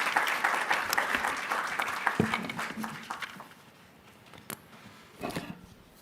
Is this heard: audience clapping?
yes